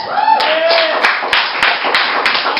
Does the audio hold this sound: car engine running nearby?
no